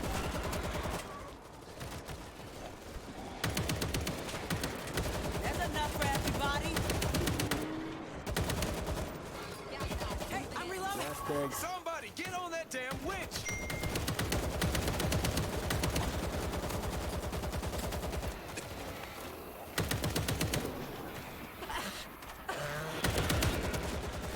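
Sustained gunfire in the zombie shooter World War Z, with repeated rapid shots and bursts rattling over a long stretch, some quieter pauses and game sounds in between.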